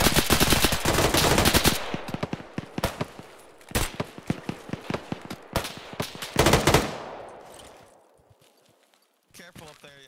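Rifle and machine-gun fire in Arma rattles out in fast, loud bursts, then thins into sparse single shots with gaps of quiet, and a voice speaks briefly near the end.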